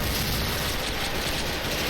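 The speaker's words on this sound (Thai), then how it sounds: "เอาระเบิดไปกินเพื่อน" A continuous, dense roar of grenade blast noise in the shooting game Special Force, with rumbling lows, loud and unbroken.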